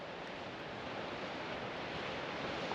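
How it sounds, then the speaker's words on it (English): Sea waves rolling onto a Cornwall shoreline below the cliffs on a morning with surfers out, a steady broad wash of surf mixed with wind buffeting the microphone, continuous and fairly loud. "This is under some nice waves coming in."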